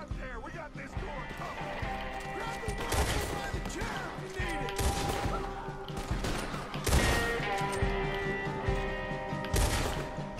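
Gunfire in Red Dead Redemption 2 comes as sharp, rapid volleys of shots, close and loud, over a chaotic game scene with occasional hoof-like thumps and a voice talking.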